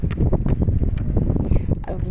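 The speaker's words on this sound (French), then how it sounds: "vous m'excusez parce qu'il y a un peu de vent" Wind buffets a microphone outdoors during a knitting demonstration, a steady low rumble with gusty swells throughout, continuous and close.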